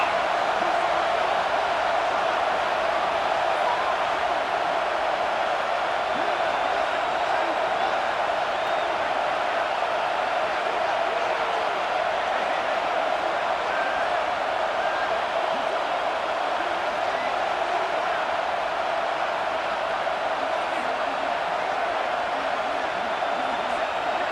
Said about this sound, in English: A third and goal, and this defense feeling energy from the crowd.